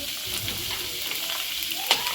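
In a wok over a low flame, cabbage and cauliflower fry with a steady close sizzle, with occasional stirring scrapes and a sharper clink near the end.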